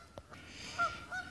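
A few loud goose honks, two sharp calls standing out over a steady background hum, fairly close by, near a pond and dam.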